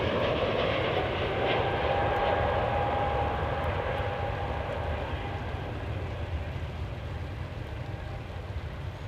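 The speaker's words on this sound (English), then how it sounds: "So this will be our last departure here." An airliner in a special livery departs DFW International Airport, its jet engines a loud, steady broadband roar that fills the whole stretch and eases off only slightly toward the end.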